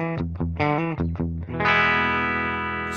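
Electric guitar played through a clean Fender-style amp simulation in Cubase: a few picked chord stabs in quick succession, then one chord left ringing and sustaining clearly with no talk over it.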